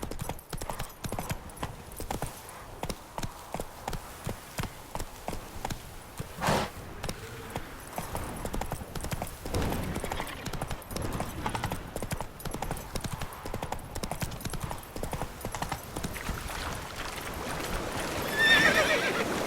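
Geralt's horse Roach in The Witcher 3 gallops with steady, rhythmic hoof clip-clops that speed into a run, broken by a neigh, fairly close and with no talking.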